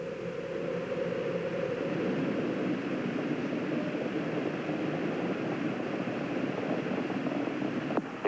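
Space Shuttle Challenger launch: a steady, broad, low rumble of rocket engines with a hissing roar, continuous and fairly distant, without talk.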